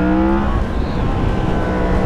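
A 2016 Yamaha MT-10 naked motorcycle engine hums loudly and steadily at close range, its revs rising slightly with a smooth, continuous tone over wind rush while riding.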